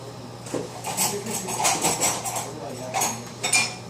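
A spoon mixes salad in a bowl, giving a series of irregular clinks and scrapes against the dish, moderately close, with no talking.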